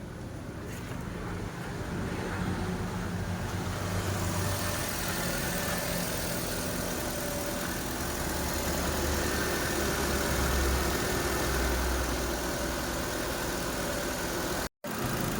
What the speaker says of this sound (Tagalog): Maganda na yung tunog ng makina.